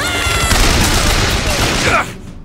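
Dense gunfire crackles in the video game Bioshock Infinite, a loud continuous burst of overlapping shots lasting about two seconds before cutting off abruptly.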